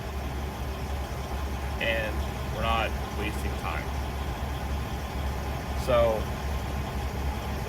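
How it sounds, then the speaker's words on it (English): Idling Freightliner Classic XL truck just outside an open window, a steady low diesel rumble running under nearby talk about griddle cooking. "Probably hear the Freightliner next to me."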